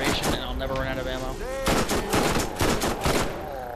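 Rapid bursts of gunfire from the video game Borderlands, loud and repeated, mixed with other game sound effects and brief voice-like tones.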